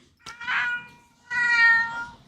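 A cat meows twice, two clear drawn-out calls close by with a short pause between them, and no talking over them.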